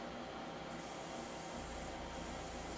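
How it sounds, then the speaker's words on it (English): Paint sprayed from an airbrush onto a Master Grade GM 2.0 plastic model kit, a steady close hiss that runs unbroken through the whole stretch, with no talk. "Spray that out."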